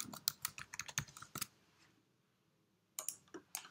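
Quick, close clicks of typing on a computer keyboard to name a new folder, a rapid burst of keystrokes, a short quiet pause, then a few more taps.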